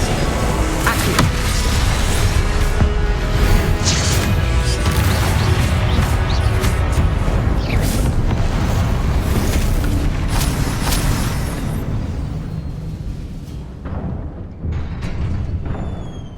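Fiery Confringo spell blasts and crashing impacts in Hogwarts Legacy on PS5, a loud, dense run of booms that fills most of the stretch before easing off near the end.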